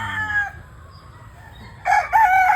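Yellow-legged gamefowl stag at a game farm crowing close and loud, a brief call at the start, then a strong two-part crow near the end.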